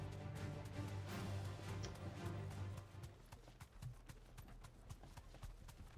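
Rhythmic clip-clop footfalls of a chocobo being ridden at a run in Final Fantasy XVI, steady and close at first, then lighter and more spaced with faint background sound and no clear talk.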